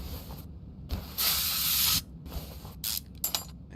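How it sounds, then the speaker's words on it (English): A WD-40 spray can sprays onto a car part in Car Mechanic Simulator 2021, producing a few short hissing bursts. One longer blast stands clearly above a quiet background. "It actually sprays a can of WD-40 on it"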